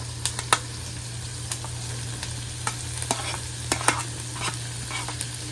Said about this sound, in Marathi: गाजर टाकायचं आहे, मग त्याच्यानंतर शिमला मिरची टाकायची आहे, मग कोबी टाकते